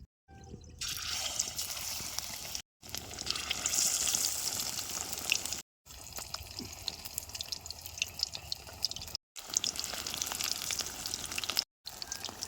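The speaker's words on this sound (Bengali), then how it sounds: "এবার এই মাছটা তেলের মধ্যে দিয়ে দেবো" Fish pieces dipped in gram-flour batter go into hot oil, giving a loud, bubbling sizzle with crackles and drips, broken by several brief silent cuts.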